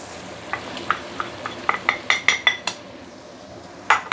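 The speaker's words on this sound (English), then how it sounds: "So now you're going to use a medium-low heat to slowly saute your curry powder" Curry powder sautés in hot oil in a wok over medium-low heat for a mixed vegetable curry. A spatula knocks and scrapes the wok in a rhythmic run of clinks above a soft sizzle, pauses briefly, then strikes again.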